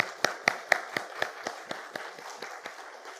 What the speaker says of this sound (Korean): 축하 박수 해주시기 바랍니다.